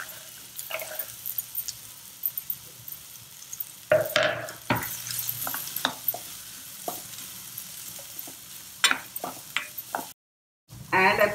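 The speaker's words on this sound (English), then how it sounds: "Add the chopped bitter gourd pieces to this." Chopped bitter gourd fries in a little oil in a pan, a quiet sizzle under repeated scraping and tapping strokes of a spoon, with a brief gap of silence near the end.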